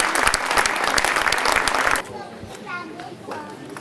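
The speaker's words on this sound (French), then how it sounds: "On applaudit Sarah bien plus fort que ça." Audience at a French television telepathy show breaks into loud, dense applause for about two seconds, then it cuts off and quieter voices and chatter follow.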